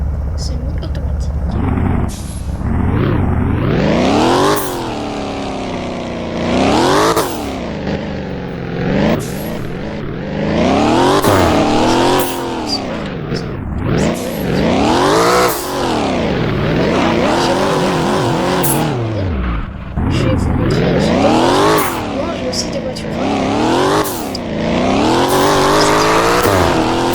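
A car engine in a Roblox driving game revs hard and repeatedly, each sweep of the tone climbing and dropping through gear changes, loud and close throughout, with occasional tire squeal mixed in.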